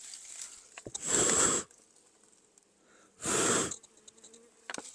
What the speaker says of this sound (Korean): 안에 벌 소리가 많이 났네요